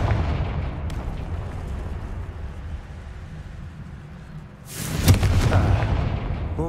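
A blasting spell in Hogwarts Legacy on PS5 sets off one sudden, loud explosion near the end, breaking a low rumbling game background with no speech.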